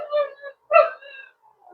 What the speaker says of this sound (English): Okay, that's my dog.